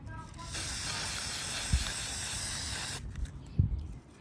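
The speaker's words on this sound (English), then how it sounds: "I get that chalkboard paint over here, and I'm gonna go ahead and spray it again" Chalkboard spray paint hisses from an aerosol can onto wood in a steady burst of about two and a half seconds, with a couple of soft knocks around it.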